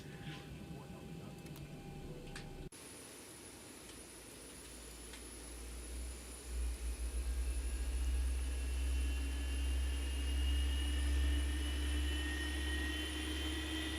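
A Boeing 737 jet engine starting up in the X-Plane 12 flight simulator: the cabin ambience cuts to a rising low rumble and a steady high whine that builds and then holds loud and sustained, alone without talk.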